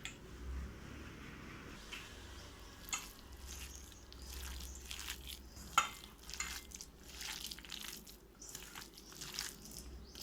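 Sooji pakoda batter being stirred and mixed by hand with salt and chilli flakes, giving soft, irregular wet squelches and scraping taps close up, with no voices.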